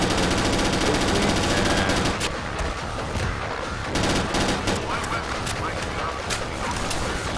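Sustained rapid gunfire in the zombie shooter video game BrainBread 2 on a rooftop arena, with dense, loud bursts of shots that continue throughout and have a few brief lulls, plus a voice talking underneath.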